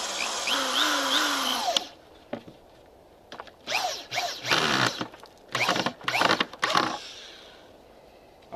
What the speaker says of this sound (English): we just screw the ends together